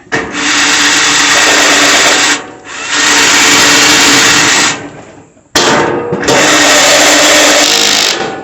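A power drill drives a screw while a Char-Broil Performance Series 4-burner gas grill is assembled. Three loud, close bursts of buzzing whir are separated by short stops.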